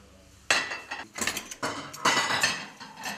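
Metal spoons clink and clatter close by in a home kitchen, several bright irregular bursts of cutlery knocking together with short pauses between them.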